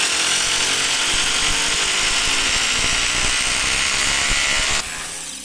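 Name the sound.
rotary hammer drill machine drilling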